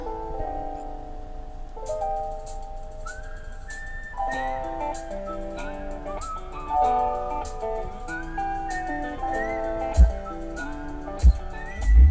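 Music plays on the stereo of a 2012 Toyota Vigo Champ 3.0G VN Turbo pickup, a bright melodic tune with layered sustained tones, heard clearly inside the cab with a few thumps near the end.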